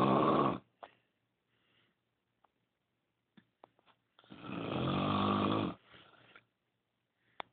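Two long, loud snores from a sleeper, close to the recorder, separated by quiet breathing and small rustles, with the second snore drawn out over more than a second.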